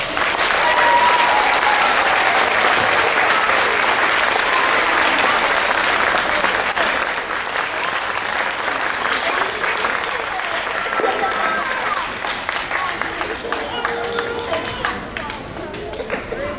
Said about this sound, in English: So if we can give a big round of applause to Mr. Talon Welch.